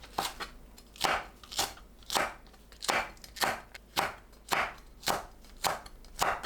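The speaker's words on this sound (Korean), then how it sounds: "파, 청양고추, 홍고추를 어슷 썰어주세요" A knife slices green onion, hot green chili and red chili on a cutting board, giving about a dozen crisp, evenly spaced chops close up, each a sharp crunching stroke with brief quiet gaps between.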